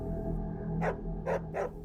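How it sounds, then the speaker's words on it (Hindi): Three loud dog barks ring out in quick succession, used as a sound effect in a horror story, over a low, droning background. "अचानक से कुछ कुत्तों की जोर जोर की आवाज सुनाई देने लगी, जैसे कोई उन्हें मार रहा हो"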